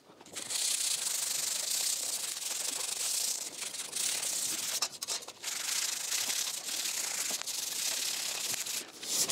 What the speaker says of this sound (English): I'm sanding it down with a grit 400, so it's a little bit more rough